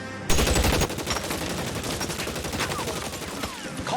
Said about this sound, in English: Let's get into a gunfight.